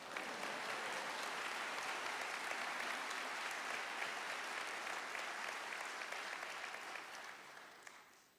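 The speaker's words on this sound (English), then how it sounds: "You're supposed to applaud" A conference audience applauds, a dense and steady clatter of many hands heard at a distance. It holds level for about seven seconds, then tails off toward the end.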